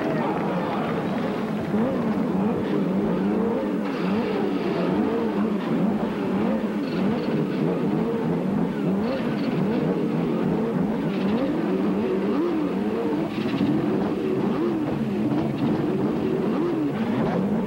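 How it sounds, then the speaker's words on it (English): Race car engines start and rev together at the 1992 Miller Genuine Draft 200 IndyCar race, a dense, continuous mechanical roar with wavering pitch that runs for the whole stretch, partly under a voice. "gentlemen, start your engines."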